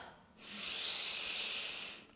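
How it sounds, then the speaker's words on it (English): Slow, steady inhalation through the nose during a breathing warm-up for pole dance, a single soft airy draw lasting about two seconds, close and alone without talk. "breathe in through your nose"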